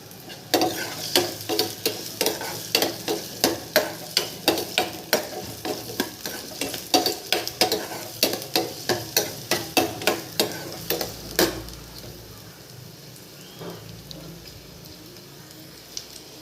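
Chili and onion frying in hot oil for a South Indian tempering, stirred with a spoon that scrapes and taps the pan in a quick regular rhythm over a soft sizzle, then the stirring stops and only the sizzle remains.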